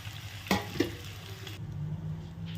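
Vermicelli for a quick seasoned upma is mixed into a hot frying pan, with a low steady sizzle and a couple of distinct spatula scrapes and knocks against the pan over a few seconds.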